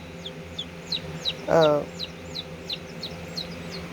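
Backyard chickens, a hen with her naturally hatched chicks, cluck and cheep in a short busy stretch, with soft repeated peeps, one louder cluck in the middle, and a man's brief murmur.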